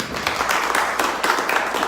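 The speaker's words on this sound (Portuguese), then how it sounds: "Uma salva de palmas para ela." Sustained applause from a crowd, a dense steady patter of clapping filling the room for a couple of seconds, with no talking over it.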